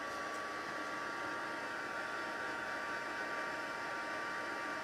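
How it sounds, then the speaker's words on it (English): A heat gun blows steadily to heat emboss a wedding card, a faint, even airy hiss that runs unbroken from start to finish. "we'll pull this in, we'll do a quick heat emboss"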